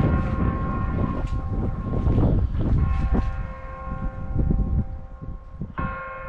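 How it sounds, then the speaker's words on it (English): Church bell ringing nearby at an outdoor spot, its sustained metallic tones overlapping steadily across the whole stretch, with a fresh loud strike near the end over faint background noise. "Little church bell going off right where we're, you know, looking for demonic beings."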